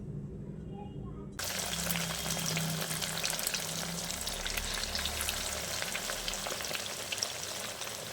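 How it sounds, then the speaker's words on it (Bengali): Egg- and breadcrumb-coated chira (flattened rice) cutlets hit hot oil in a kadai on a gas stove, bursting into a steady, bright sizzle that continues close and even after a quiet start. "এইবার আমি গ্যাসের উপরে একটা কড়াই বসিয়ে তাতে এগুলো দিয়ে ভেজে নেব।"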